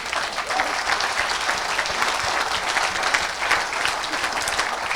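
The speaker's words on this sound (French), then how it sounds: "Acclamez, acclamez, acclamez." A church congregation applauds steadily and densely throughout, a close, continuous wash of clapping with scattered cheers during an evangelistic service.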